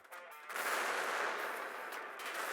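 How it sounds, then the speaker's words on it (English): Artillery pieces exploding in the tank video game Total Tank Simulator, heard as a sustained, noisy blast rumble that swells after a short quiet start and then rolls on at moderate loudness, with no speech. "sometimes the artillery pieces just explode."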